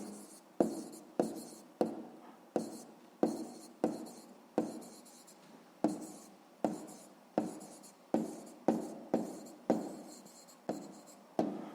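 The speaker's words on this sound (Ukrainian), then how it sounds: "записуємо тоді відповідь" Pen writing out a 6th-grade math answer on paper, a series of about twenty quick scratchy strokes in a brisk, regular rhythm, close and fairly quiet, with no talking.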